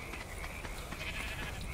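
Sheep bleating in the video game ARK, steady brief calls repeating over a constant ambient game background, no talking.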